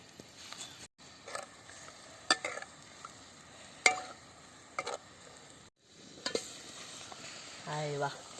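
Egg cooking in a hot pan for an egg gravy gives off a faint, steady sizzle, broken by sporadic spoon scrapes and metallic clinks. Short silent gaps interrupt it, and the pan sounds close but quiet.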